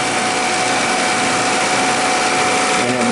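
A refrigerant reclaimer pumping down during a CPS versus Bacharach comparison, a loud, steady, unbroken motor and compressor drone that holds constant throughout, with no voices.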